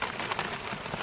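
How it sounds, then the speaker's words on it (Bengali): Rain patters steadily outside during a Kalbaishakhi storm over a river, a soft continuous hiss of drops on surfaces, faint and without voices. "দেখো বাইরে বৃষ্টি হচ্ছে।"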